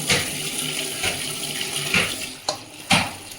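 Homegrown jujube (kul) berries washed under a running tap in a sink, with a steady close stream of water broken by several sloshing splashes as the berries are rinsed and turned.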